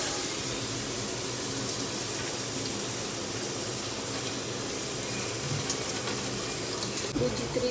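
Water pours steadily into a pot for cooking macaroni in a home kitchen, a continuous close gushing stream with a slight knock near the end.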